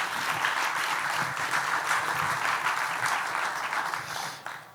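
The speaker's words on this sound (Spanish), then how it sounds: "Bueno, sí, aplausos." Sustained audience applause fills a lecture hall after a talk at a feminist panel session, a dense steady wash of many clapping hands at moderate loudness that thins slightly near the end.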